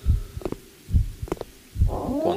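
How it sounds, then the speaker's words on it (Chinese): Heartbeat in the horror video game Dead Hand School: three heavy low thumps, evenly spaced about every 0.85 seconds, followed by a rising hum, with no talk over them. "那个心跳好像是在这附近是吗？"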